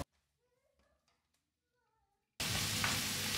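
Mushrooms with thyme and garlic frying in olive oil in a pan, a loud, steady crackling sizzle that starts abruptly after a quiet stretch of faint talk and small clinks.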